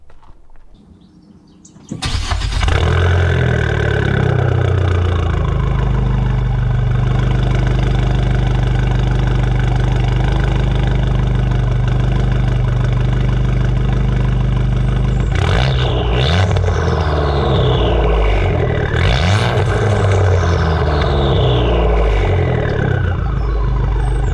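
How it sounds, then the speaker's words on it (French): An Abarth 595 V2 with a modified exhaust cranks and fires into a loud, close roar that settles into a deep steady idle, followed by several sharp revs rising and falling near the end. "Je vais vous faire écouter le démarrage de la voiture"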